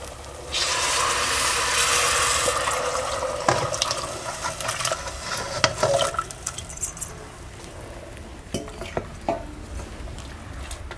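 Reserved liquid is poured into sautéed masala for a village-style chicken rassa curry, starting as a steady pouring splash that gives way to clinks of a spoon against the pot and soft stirring.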